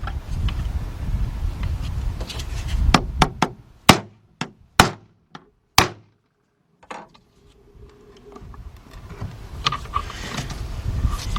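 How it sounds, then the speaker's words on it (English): A hammer knocks an oil cooler filter adapter on a BMW engine down flush with its housing, giving a series of about eight sharp, close metallic strikes in an uneven rhythm that is followed by quieter shop noise. "Get us a hammer. We want to knock that down till it's flush"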